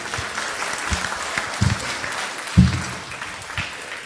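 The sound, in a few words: audience applause for the drummer at a concert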